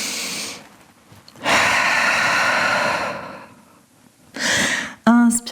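Deep yoga breaths in downward dog come as long audible inhales and exhales, close and fairly loud, separated by short quiet pauses and ending in a brief voiced sound.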